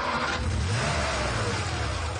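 A car pulls away with its engine revving in a steady, loud, close rumble that holds for about two seconds, with no voices over it.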